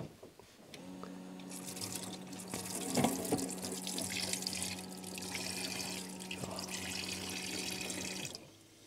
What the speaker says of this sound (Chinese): 然后水就会流到下面的污水槽